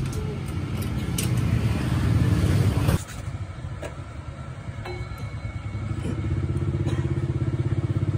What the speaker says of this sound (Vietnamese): Bây giờ mình sẽ test vô thử trong chiếc xe một lon cho anh em nghe thử nha.